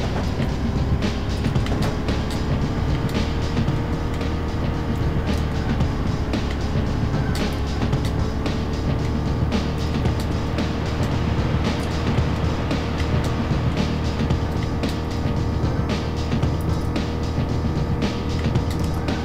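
A slow car's engine drones steadily in the N64 racing game Beetle Adventure Racing, a continuous mid-level hum with faint rattling texture throughout and no talk over it.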